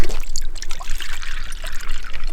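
Water drawn from a tap and pouring in a close, steady trickling stream for a couple of seconds, loud and alone without talk.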